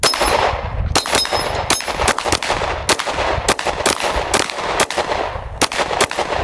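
Gunshots fired at targets, about a dozen sharp, loud reports in quick irregular succession with ringing metallic hits between them, close by.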